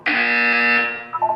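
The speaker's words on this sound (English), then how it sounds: "When you hear the buzzer, look up at the ceiling." A steady electronic buzzer sounds alone, loud and close, holding for about a second before fading.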